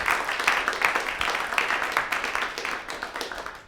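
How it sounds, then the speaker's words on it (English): An audience at a small talk on record pressing claps for a presenter, a moderate round of applause that is fairly steady and gradually fades toward the end. "Let's get a round of applause for Amy"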